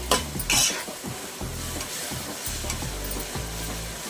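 Masala for Mysore mutton biryani fries in a pan with a constant close sizzle, while a spoon stirs and scrapes through it in rhythmic strokes about every half second.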